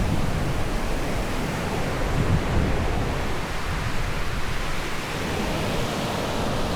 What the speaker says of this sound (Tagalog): Nice wave.